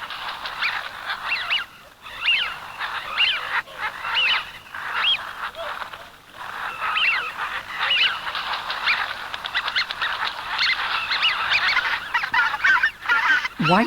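A large wintering wildfowl flock of white-fronted geese on Irish callows gives a dense, continuous chorus of honking and yelping calls, many birds calling at once at steady loudness throughout.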